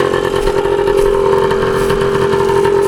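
A 1981 Suzuki DS100 trail motorcycle idles close by, a loud steady buzzing putter with a fast even beat and light mechanical clatter, holding a constant note throughout with no talk.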